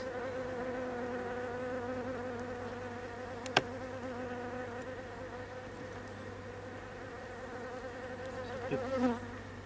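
Honeybees hum steadily around a hive colony in woodland during late-season beekeeping, a soft continuous buzz of many insects with one sharp click midway and a slight swell near the end.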